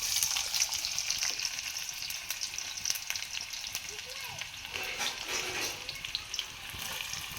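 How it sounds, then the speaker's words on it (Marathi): Chopped onion fries over an open wood fire, giving a steady broad hiss and crackle with some faint clatter and bubbling mixed in. No one speaks. "तर यात आपण आता शिंदलेला कांदा टाकूया"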